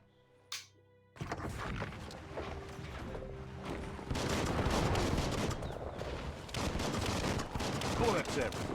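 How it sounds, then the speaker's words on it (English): Biomutant combat gunfire: a quiet opening with a single brief blip gives way to sustained rapid shooting and clattering impacts, swelling louder in the second half, with game speech mixed in. "Bullets everywhere."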